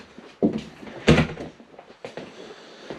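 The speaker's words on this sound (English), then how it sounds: "I'll shut this door out." A couple of close wooden knocks and thuds, like a door being pushed shut and bumping its frame, with a softer clunk afterward.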